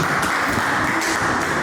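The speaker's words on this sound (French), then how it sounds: "Applaudissez-la." Studio audience clapping steadily for a contestant on a balloon-popping dating show, a dense, even wash of applause throughout.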